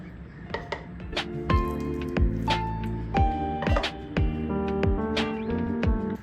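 Thick orange barfi mixture slides from a pan into a cake tin in wet squelching plops and dull knocks, several distinct dollops with scraping in between, close and fairly loud.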